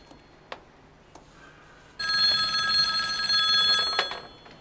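A telephone rings with a loud, continuous electronic trill lasting about two seconds, preceded by a few faint clicks and knocks in a quiet room.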